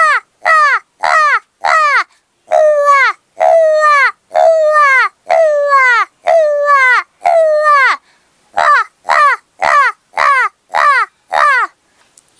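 A human voice imitates an old crow cawing, giving a long run of loud, close harsh caws in an uneven rhythm, some grouped and drawn out, with short gaps between them.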